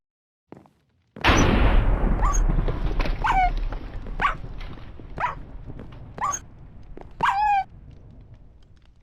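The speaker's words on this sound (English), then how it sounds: "a lightning strike went through the roof, I've calculated 4 layers of blocks, only to strike that poor little puppy and killing it" A lightning strike in the Minecraft video game crashes through a block roof and hits a pet dog: a sudden loud crack and rumble, then several sharp yelps and whimpers from the dog over a fading roar.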